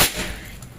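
A single air rifle shot from a folding Predator Monel Ataman with a 30 cm Yumaja barrel, a sharp crack at the very start that decays into a faint tail of room noise.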